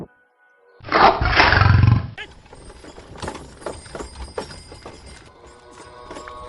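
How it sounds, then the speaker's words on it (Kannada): A tiger lets out one deep, loud, sustained roar lasting about a second, followed by quieter scattered knocks and rustling that carry on after it. "ಅದೇ ವೇಳೆಗೆ ಎದೆ ನಡುಗುವಂತೆ ಹುಲಿಯ ಗರ್ಜನೆ ಕೇಳಿಸಿತು"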